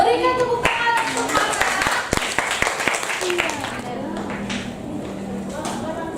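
Pupils in a sixth-grade primary school classroom clap their hands together, a dense, steady patter of many small hands that carries through the clip, with children's voices mixed in underneath.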